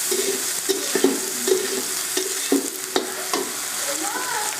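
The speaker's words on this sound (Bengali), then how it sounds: "দিয়ে মশলাটাকে ভালো করে একটু কষে নেব।" A ground paste of cashew, poppy seeds, melon seeds and raisins fries in a pan while a spoon stirs it, giving a close sizzle under repeated scraping knocks at an uneven rhythm, with no voices.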